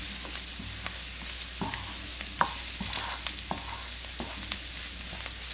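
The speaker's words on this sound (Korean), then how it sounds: "잘 뒤적뒤적해서 깨가 골고루 버무려지게" Garlic scapes, anchovies and sesame seeds are stir-fried in a pan with a steady close sizzle and scattered scraping strokes of a spatula, with no talking.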